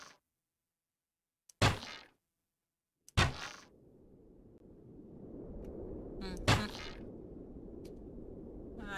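Arrows fired at a dragon in the game Minecraft, heard as a few sharp, separate twangs and thunks, each standing out clearly against quiet, with a low rushing background after the second shot.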